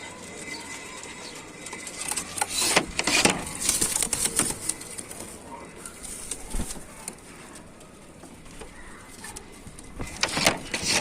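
Pigeons in a loft kept for sale, cooing softly amid scattered wing flaps and tapping sounds, fairly faint and intermittent against a quiet outdoor background.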